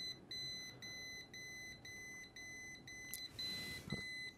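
A multimeter's continuity beep while probing a GPU board for a short: a faint, steady electronic tone that repeats in short bursts with brief gaps, about eight beeps in a row.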